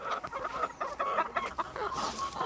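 Chickens on a farm cluck steadily at close range, a busy overlapping flock chatter that runs throughout with no voices over it.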